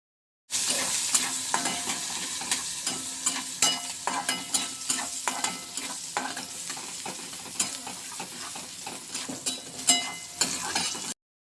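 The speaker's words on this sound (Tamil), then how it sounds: "நல்லா கிண்டிக்கிறேன் வெங்காயத்தை." Onions fry with mustard, cumin and green chilli as a spoon stirs them, a constant sizzle overlaid by frequent rhythmic scrapes and taps against the pan, near and clear with no talking.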